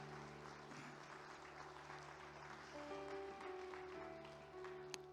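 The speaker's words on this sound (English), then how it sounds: "Let's give our Father a big hand clap again before we move on with the service" A church congregation clapping during a Sunday service, a faint, sustained ripple of applause under a steady hum and sustained organ-like tones, with a single sharp tap near the end.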